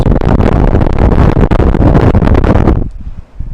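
Air from an air conditioner blows straight into a microphone, making a loud, steady rushing roar that cuts off abruptly near the end, leaving a faint hiss.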